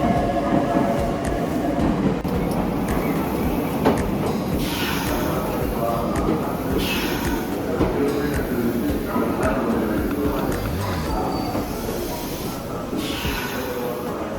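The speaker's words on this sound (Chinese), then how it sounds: "一大早火车站内慢慢都是通勤的人。" A train station in Nagoya, Japan, during the morning commute: a continuous loud rumble and hiss of trains, with a busy crowd murmuring underneath.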